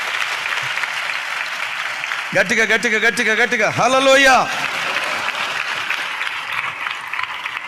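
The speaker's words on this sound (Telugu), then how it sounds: "చప్పట్లు కొడుతూ దేవునికి స్తోత్రాలు చెప్దాం." A church congregation claps continuously through a sermon while a voice rises loudly in a sung, drawn-out shout over the applause.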